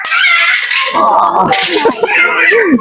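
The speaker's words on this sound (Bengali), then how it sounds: "এইখানে দেখা যাচ্ছে অনেক ধরনের পাখি কিচিরমিচির করতেছে" Harsh, loud macaw squawks and screeches come in bursts at a safari park in Gazipur, overlapping with people talking nearby.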